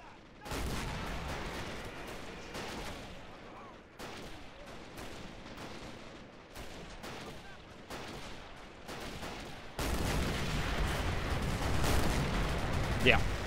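Anti-tank guns in a Battle of Moscow strategy game fire at infantry, heard as repeated heavy booms and crackling gunfire in dense, continuous bursts, growing louder toward the end, with someone talking over it.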